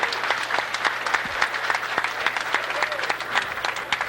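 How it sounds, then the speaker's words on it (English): An audience applauds steadily after a professional pool match between Efren Reyes and Takahashi Kunihiko, the dense clapping continuous and fairly loud for the whole stretch, with a low steady hum beneath it. "the applause is certainly indicative to the performance"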